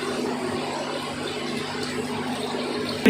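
Water pours into a pot of chicken nihari, a steady close splashing wash that runs evenly throughout before a brief louder burst at the end.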